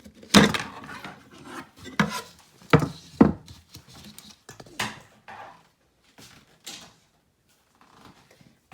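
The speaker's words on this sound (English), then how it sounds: "Let's take it out of the hoop." Embroidered fabric being pulled free of a wooden hoop, with a series of close, sharp wooden knocks and clicks and short rubbing scrapes, busy at first and thinning out toward the end.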